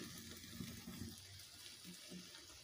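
Tap water runs and splashes into a bowl being rinsed in a kitchen sink, a steady close wash with broad hiss and low gurgling through the whole stretch.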